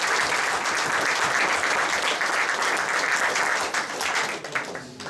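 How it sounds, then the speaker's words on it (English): A reunion audience at an Oxford Speedway gathering breaks into dense, sustained applause, loud and steady throughout before thinning slightly near the end, with no talk over it. "give him a round of applause"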